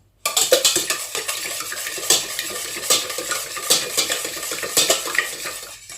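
Two eggs whisked by hand with a hand whisk in a bowl for tartlet batter, a steady rapid clatter of wire against the bowl with regular accented strokes, close and continuous, with no voice.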